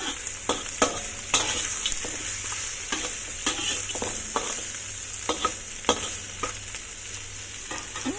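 Pork ribs and bitter gourd stir-fried in a pan: a steady sizzle broken by repeated sharp scrapes and clanks of the spatula, close and loud, with no talking.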